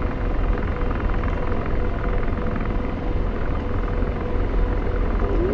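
A Kiowa helicopter flying in the DCS combat flight simulator produces a steady, loud, dense rotor and turbine drone that continues unbroken throughout.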